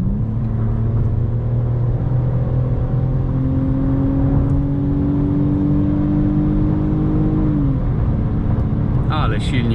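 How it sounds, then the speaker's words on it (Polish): A 2003 Mercedes C240 (W203) engine pulls steadily under acceleration on a German road, its droning pitch climbing smoothly, heard from inside the car with a voice talking over it. "Ale silnik tutaj chodzi naprawdę pięknie, aksamitnie. Bardzo ładny dźwięk."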